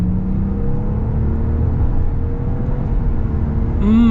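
A 2025 Jeep Wagoneer's engine hums as a loud, steady, close drone with rumbling road noise, then rises sharply in pitch as it accelerates in the final moments.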